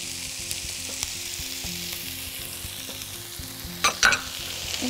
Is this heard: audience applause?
no